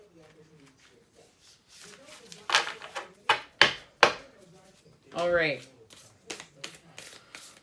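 Tarot cards being shuffled in a few sharp riffling bursts, with quieter handling between them, close and under intermittent speech.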